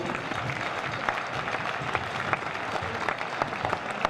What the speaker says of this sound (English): So a big round of applause to Aon, everybody